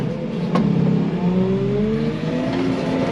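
A tractor engine revs and climbs in pitch through a gear change while working hay on a farm, loud and close with a steady rumble and no talking.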